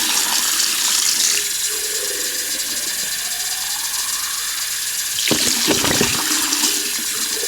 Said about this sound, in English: First and foremost, we got to rinse the containers.